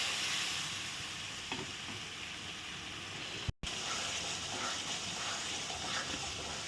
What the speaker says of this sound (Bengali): মশলা দিয়ে এখন ভালো করে নেড়ে চেড়ে কষিয়ে নিচ্ছি